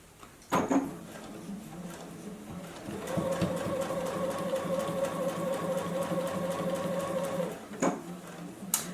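A JUKI sewing machine stitches a quarter-inch seam on fabric in one sustained, even run of about four seconds, close by, framed by a few clicks and handling taps before and after.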